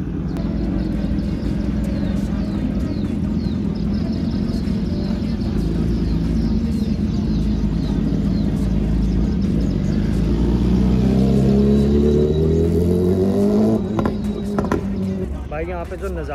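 Motorbike engines and exhausts rev at a crowded bike meetup where super cars are also parked, a loud continuous roar with rising revs and passing engine whine throughout.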